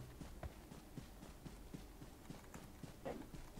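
Enemy footsteps in PUBG Mobile come as faint, evenly spaced thuds in a steady walking rhythm, quiet and somewhat distant over a low background hum.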